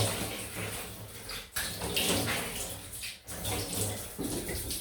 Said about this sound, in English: So quick rinse.